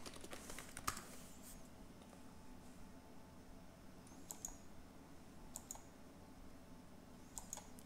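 Login credentials tapped out on a computer keyboard, sparse quiet key clicks in a few short bursts over a faint steady hiss, with no voices.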